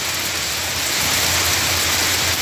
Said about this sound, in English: Love hearing the sound of the rain hitting the leaves and the trees.